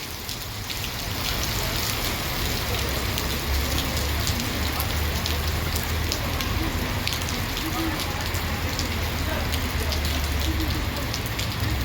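Heavy summer rain pours steadily and loudly, a dense continuous patter of large drops striking the ground close by, with little wind and no breaks throughout.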